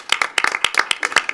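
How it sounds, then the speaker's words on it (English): Close, sparse clapping from a few people at a board meeting, a quick run of sharp individual hand claps with no talk over them. "So another round of applause."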